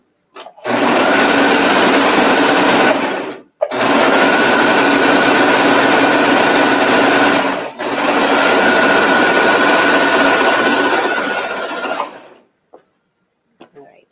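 A sewing machine stitching down the side of a pajama pants cuff, loud and close, running in three long steady whirring bursts separated by short stops, with no voices.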